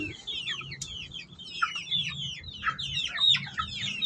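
Newborn baby chicks peep in a small cage, a busy overlapping chorus of high chirps close by, with a low background hum underneath.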